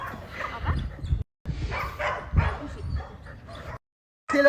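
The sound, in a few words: female dog barking and whimpering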